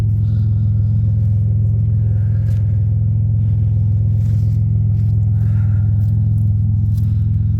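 A Buick winter beater engine idles after six months of sitting, giving a loud, steady low rumble with faint clattering over it throughout.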